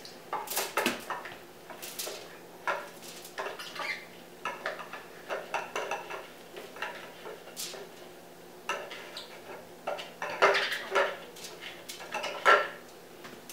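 Cauliflower rice scooped onto a baking sheet in a home kitchen, with soft scraping and light clinks of utensil against the tray in scattered bursts, fairly quiet and close.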